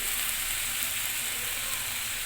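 Ghee added at the end to a cabbage and rohu fish head curry sizzles steadily in the pan, a continuous close hiss with faint clinking, no voices over it.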